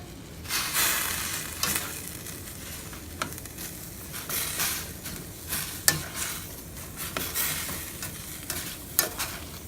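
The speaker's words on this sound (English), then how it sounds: "all of my peppers and onions and the garlic and jalapeno into the pan first, and then let those cook down" Peppers, onions, garlic and jalapeno sizzle in a hot pan, a continuous fry broken by repeated stirring scrapes and light clatters of the utensil against the pan.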